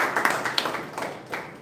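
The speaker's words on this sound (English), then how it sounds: "they also deserve a round of applause" Brief, scattered clapping from a small group at a Toastmasters club meeting, a few sharp claps fading quickly.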